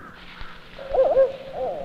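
An owl in a bayou woodland gives a few deep hoots, clear and fairly close, standing alone over a quiet background.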